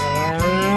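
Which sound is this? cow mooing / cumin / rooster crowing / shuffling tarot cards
cow mooing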